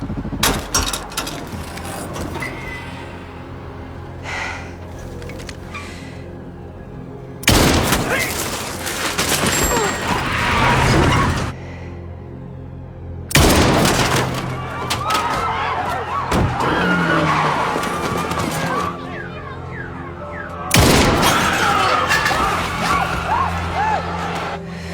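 Bursts of rapid video game gunfire, with silencers removed, erupt in loud clusters, separated by quieter stretches of engine hum and mechanical clatter, with occasional talk underneath.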